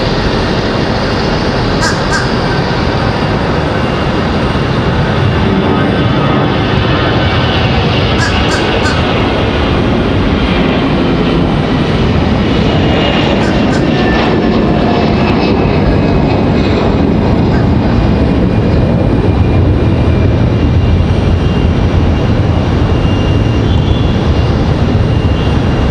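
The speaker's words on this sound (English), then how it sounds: "the sound of those Trent 800s firing up" Rolls-Royce Trent 800 engines spool up on a Boeing 777 at Raleigh-Durham International Airport, a loud, sustained roar with a rising whine, accompanied by crows cawing nearby and some faint talk.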